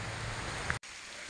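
Rain falls steadily on an oil palm plantation, a dense, even hiss with no voices, cutting out abruptly for a moment near the end before resuming more faintly.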